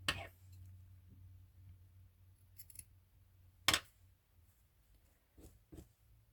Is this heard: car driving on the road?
no